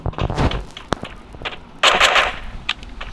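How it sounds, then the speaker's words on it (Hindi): Gunfire in the video game Free Fire, sharp single shots and a short burst of rapid automatic fire with clicking in between, close and loud, with no voices. "कोई मुझ पे फायर कर रहा है शायद।"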